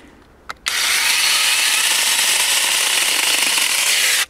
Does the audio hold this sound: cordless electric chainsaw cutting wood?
yes